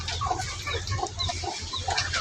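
Backyard chickens cluck close by in short, irregular bursts, several soft calls overlapping over a low steady background hum.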